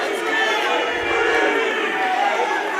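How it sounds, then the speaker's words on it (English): A high school wrestling crowd in a gym roars and shouts continuously at a loud, steady level, many voices blending into a dense wall of yelling during a tight dual meet. "Crowd's calling for 3."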